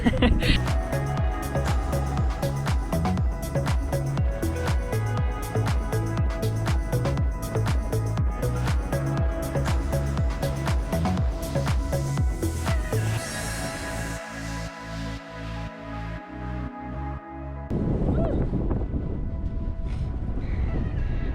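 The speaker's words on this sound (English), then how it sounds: "It's really windy today, so we'll see how much I can film because it's just impossible to talk over the wind" Strong desert wind in Goblin Valley buffets the microphone in loud, rumbling gusts throughout, with a choppy patch of battering bursts near the end.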